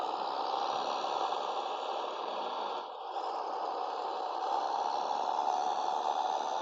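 Tractor engine in the Farming Simulator 23 video game, a steady, droning hum with a flat buzzing tone and a brief dip partway through, heard alone without talk.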